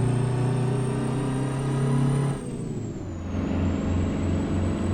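Custom Peterbilt truck in American Truck Simulator, its diesel engine droning loud and steady with strong low harmonics, then dropping in pitch midway as the engine brake comes on before the drone settles again.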